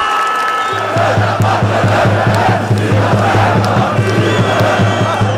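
A large crowd of football fans on a Skopje city square chants and cheers back to their team captain, a loud, rhythmic mass roar with steady pulsing beats driving under the voices.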